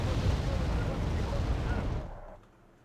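A bombing explosion in Wargame: AirLand Battle, a loud sustained rumbling roar that fills the first two seconds and then fades quickly into near quiet.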